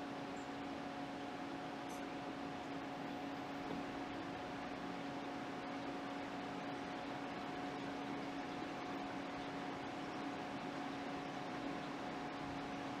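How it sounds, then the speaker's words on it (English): A CNC machine slowly travels to its home position after a power-up restart, giving off a steady, even mechanical hum with a constant tonal whine that holds unchanged throughout, with no voices. "once you hit the power up restart button, the machine is going to start slowly moving to its home position"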